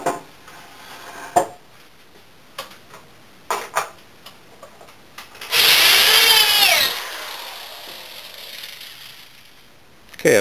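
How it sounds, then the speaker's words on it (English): Power drill pre-drilling and driving screws into a wooden workbench frame, with scattered sharp knocks and clicks followed by one loud whirring drill burst of about a second, then quiet handling sounds. "I pre-drilled and screwed all of my connections while keeping the frame square."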